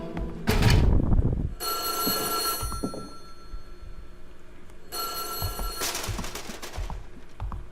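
A telephone rings in the horror game White Day, two bursts of bright, trilling bell rings separated by a quieter stretch with low background noise.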